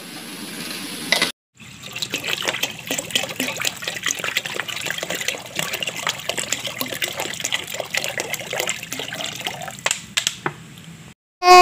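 Water pours steadily into a pot for several seconds, a continuous splashing trickle close by, with a brief pause near the start.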